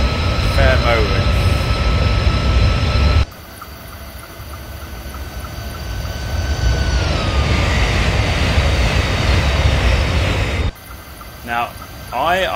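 Chinese CRH2A bullet train in Train Sim '15 running at speed, a steady loud rumble with high whining motor tones that sweep downward, broken by an abrupt cut to a quieter interior-like drone and back again.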